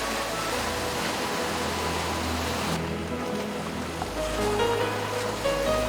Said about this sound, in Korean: 높은 파도에 배가 뒤집히지 않을까 걱정입니다.